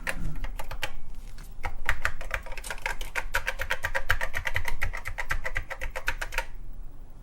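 Fast, steady typing on a TRS-80 Model I computer keyboard: a dense run of crisp clicking keystrokes for several seconds, close and clear with no talking.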